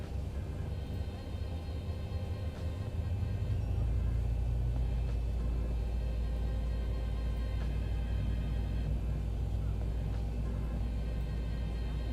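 Engine 1 of a Boeing 737 starts in the Zibo 737 flight simulator, its low rumble swelling after a few seconds into a steady, continuous drone with no voices.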